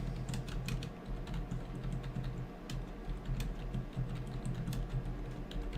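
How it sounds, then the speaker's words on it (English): Typing on a computer keyboard, with rapid, uneven clicking keystrokes close up over a low steady background hum, and no speech. "I'm just typing something here."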